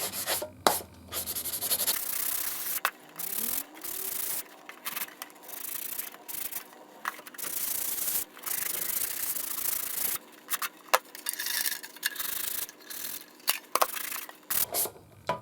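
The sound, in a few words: sandpaper block scratching a tin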